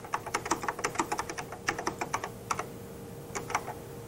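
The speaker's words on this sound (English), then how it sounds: "I can point at any place and start typing" Keys clatter on a Xerox Star computer keyboard in rapid irregular bursts with brief pauses, close and clear against a low steady hum.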